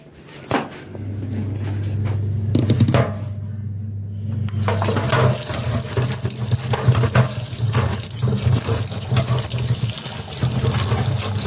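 Jujube berries are rinsed under a running kitchen tap, with water pouring steadily into a sink and a few knocks and clatters near the start before the flow grows fuller and louder.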